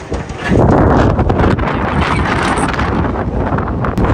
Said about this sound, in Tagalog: Lakas ng hangin doon sa may dagat, oh.